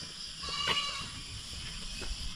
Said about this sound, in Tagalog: Yan po ang nag-iisa niyang kaibigan oh, yung kambing natin.